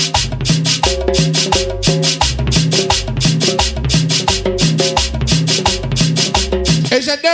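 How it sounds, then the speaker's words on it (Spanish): Cumbia dance music plays loud and steady with a bouncing bass line, a repeating melody and a scraping percussion rhythm throughout. "Que suene la cumbia."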